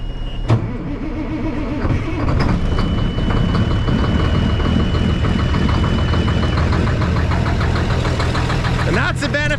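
A Peterbilt 359 truck's electronic engine idles in neutral close by with a steady, throbbing low rumble that stays constant and loud throughout.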